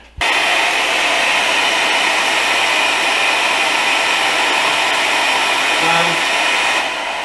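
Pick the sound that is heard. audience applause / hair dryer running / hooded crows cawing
hair dryer running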